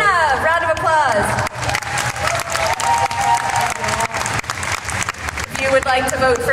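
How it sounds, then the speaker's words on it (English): A convention crowd at a cosplay contest claps and cheers steadily to vote for a contestant, with whoops and a few voices rising over the dense, continuous applause. "If you would like to vote for Karina, round of applause."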